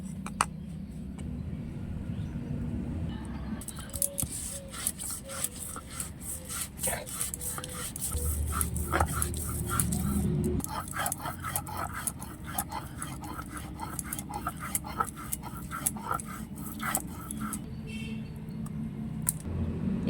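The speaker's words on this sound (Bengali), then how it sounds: "এবার আমি পোস্ত বেটে নেব।" White poppy seeds being ground into a paste by hand, a steady rhythmic rubbing and rasping of stone close by, continuing without a break and with no talk.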